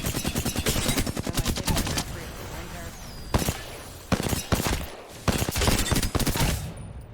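Bursts of Flatline rifle fire in Apex Legends, aimed at training dummies: a long rapid stream of close, loud shots, then several shorter separated bursts, with a hum of game ambience between them.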